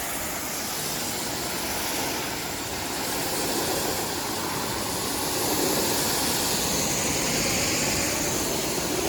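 A pressure washer rinsing foam off a car, spraying top to bottom: a loud, continuous broadband hiss of water jet and pump hum running steadily throughout without voices.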